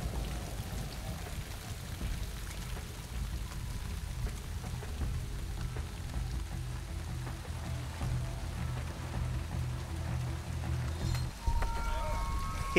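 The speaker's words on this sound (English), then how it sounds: "It's raining." Rain falling in the stealth video game Splinter Cell Double Agent, a steady wash of drops on surfaces with a low rumbling bed underneath and a slight swell near the end.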